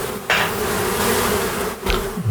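Honey bees buzz around an open hive as a capped honey frame is pried loose and pulled out, a steady close insect drone filling the clip with a couple of brief louder bursts.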